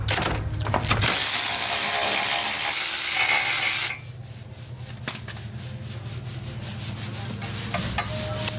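A ratchet wrench loosening 10 mm bolts on a vehicle's OEM cooler, a steady loud rasping clicking burst followed by quieter, sparser ratchet clicks and small metallic taps close by.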